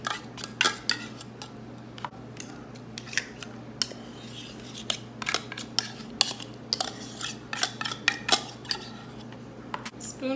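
Two cans of tuna are emptied into a bowl, with repeated close metallic scraping, clinks and taps of a utensil against can and bowl in an irregular rhythm.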